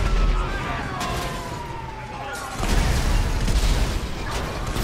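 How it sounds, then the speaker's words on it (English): Explosions in the video game GTA 5 during free-roam play, a loud sustained roar with a second blast hitting midway, layered over siren-like wailing and continuous game noise. "I love the double explosion."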